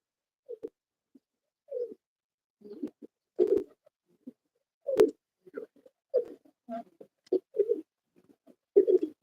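Soft pigeon coos repeat in short, irregular bursts from a pigeon with a cold, close and fairly quiet, with brief silences between calls.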